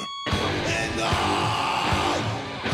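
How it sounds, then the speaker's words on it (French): A metal vocalist's harsh, sustained scream from a played recording rides over a dense, loud band, with heavy drum hits thumping underneath throughout. "Ils ne grôlent pas, ne screament pas, ils hurlent!"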